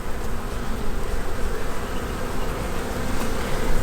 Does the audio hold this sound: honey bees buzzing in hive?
yes